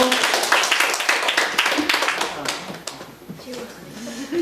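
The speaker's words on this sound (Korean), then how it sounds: "박수 나오세요." Congregation clapping hands during a Thanksgiving joint worship service at a church, a brief burst of claps that trails off after a couple of seconds as voices take over.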